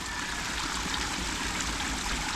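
Spring water flowing out through a pool drainage outlet at a game farm, a steady close rushing trickle that holds an even level throughout with no voices.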